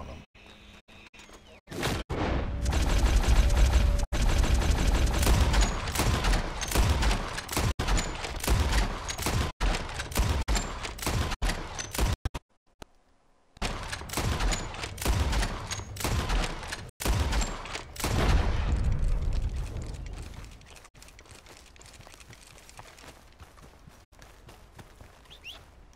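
Gunfire rings out while hunting a legendary elk in Red Dead Redemption 2, with a dense run of loud sharp shots and impacts, a short silent gap, then more bursts trailing into quieter ambient game sound.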